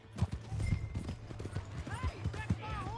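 Horse hooves clip-clopping in Red Dead Redemption 2, a steady run of close hoof strikes with a low hum beneath, mixed with voices talking over it.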